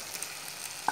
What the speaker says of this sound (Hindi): 3 से 4 मिनट मसालों को अच्छे से फ्राई करने के बाद अब हम इसमें चिकन ट्रांसफर कर देंगे